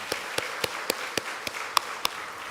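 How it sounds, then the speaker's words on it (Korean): A church congregation claps during a Sunday morning service, sharp, evenly spaced hand claps in a slow steady rhythm, loud and close in a reverberant hall with no talking. "감사와 영광의 박수 하나님께 올려드리겠습니다"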